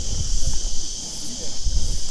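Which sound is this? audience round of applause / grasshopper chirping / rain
grasshopper chirping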